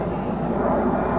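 A Slovak Air Force MiG-29 jet fighter with twin Tumansky RD-33 engines roars at an air show, a loud, steady broadband jet rumble with no voices.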